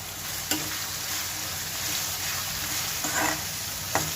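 Green chillies and onions fry in a hot pan with a steady sizzle and occasional stirring scrapes, moderately loud with no talking.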